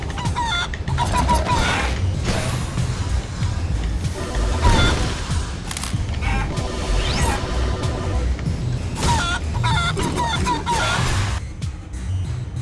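Chicken clucks and squawks repeat among busy electronic game effects and mechanical creaks in Guacamelee 2, with no clear talk.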